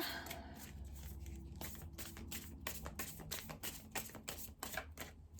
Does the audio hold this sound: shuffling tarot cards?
yes